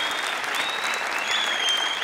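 An audience applauds the team awarded a 5000 prize on a game show. Dense, steady clapping from a moderately distant crowd fills the whole short stretch.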